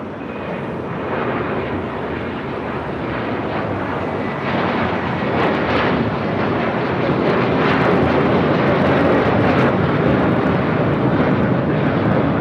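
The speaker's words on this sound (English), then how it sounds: "EVA Air Cargo, the 777 freighter, heading to SFO." An EVA Air Cargo Boeing 777 freighter departs Los Angeles International bound for San Francisco, its jet engines giving a loud, continuous roar that builds gradually and stays heavy to the end, with no voices.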